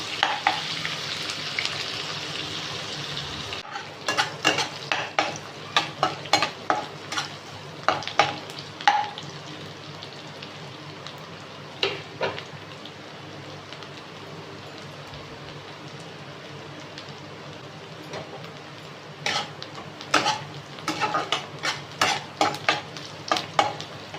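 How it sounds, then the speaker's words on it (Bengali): Onions frying toward golden brown for a parshe fish curry, a steady background sizzle overlaid by bursts of rapid, loud spatula clatter and scraping against the pan, with quieter stretches between. "পেঁয়াজগুলো ভালো করে ভেজে নেবো, পেঁয়াজটা ভালো ভেজে নিতে হবে, গোল্ডেন ব্রাউন হবে"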